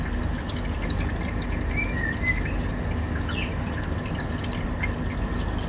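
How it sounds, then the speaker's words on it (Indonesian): Water is poured onto soil in a plastic bottle planter, a steady soft trickle and gurgle heard outdoors, with faint birds chirping in the background. "terus disiram biar meresap ke bawah"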